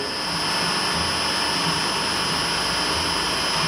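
An electric motor driven by SPWM control runs at a steady pace, giving a constant broadband whir with sustained high-pitched tonal whine lines and a low rumble, fairly loud and with no voices.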